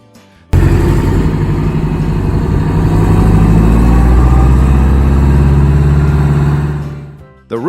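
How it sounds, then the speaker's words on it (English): The Detroit two-stroke diesel engine of an MCI MC-5 coach roars loud and steady with a dense, buzzing howl. It starts abruptly, holds for several seconds, then fades away near the end. "Being a Detroit two-stroke, the MC-5 produced that unmistakable Detroit scream, a sharp, rising howl under load"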